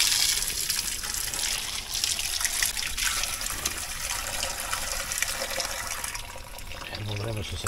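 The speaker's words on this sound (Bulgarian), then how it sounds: "И църковната чешма." Water pours steadily from a church fountain at a medieval church site in Tsarevo, a close, continuous splashing hiss while a person talks over it.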